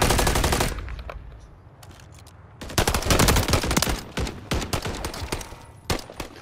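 Rapid automatic gunfire from Call of Duty Modern Warfare 3 multiplayer, dense bursts at the start, a quieter lull, then loud sustained volleys with sharp individual shots from about the three-second mark onward.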